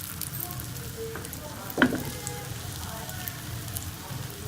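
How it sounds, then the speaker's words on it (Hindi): An omelette sizzles and fries steadily in hot oil and ghee on a tawa, a soft close crackle with one brief louder clatter partway through. "अब इसके ऊपर हम ऑमलेट डाल के बना लेंगे"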